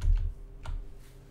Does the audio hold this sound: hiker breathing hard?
no